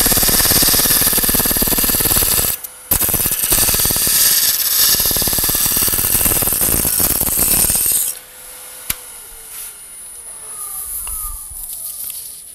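A scraper cutting a spinning piece of wood on a lathe while shaping a snowman, giving a loud, steady rasping scrape that pauses briefly and then stops, leaving the motor's quieter hum and faint ticking.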